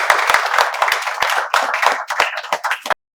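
A group claps in welcome during a live spoken-English class, with loud, fast, slightly uneven hand claps close by that stop abruptly after about three seconds.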